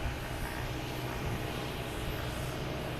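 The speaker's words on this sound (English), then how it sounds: "we have this Cape Air here making all the racket, making the jets sound like the prop planes." Cape Air propeller plane engine at Boston Logan Airport, a steady broad roaring drone that holds constant throughout, dense and fairly loud with no talk.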